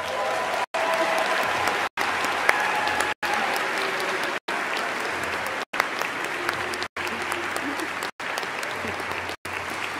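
Sustained applause from a large audience at a basketball Hall of Fame induction ceremony, steady and dense for the whole stretch, broken by brief gaps of silence at regular intervals.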